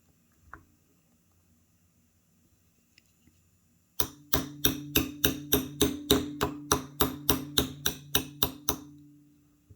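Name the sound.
hammer and punch knocking out pins of Sig P320 BB pistol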